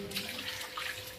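Water runs steadily from a tap or hose while a veranda floor near a small stove is being washed, a faint continuous hiss with no talk over it.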